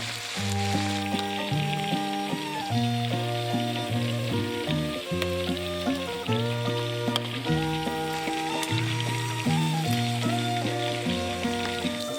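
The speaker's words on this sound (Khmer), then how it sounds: "ឥឡូវនេះខ្ញុំចាប់ផ្ដើមមកបំពងមាន់វិញម្ដង" Farm-raised chicken, about 800 grams, deep-frying in hot oil for a Khmer dish, a dense continuous sizzle and crackle heard alongside loud, steady background music with no talking.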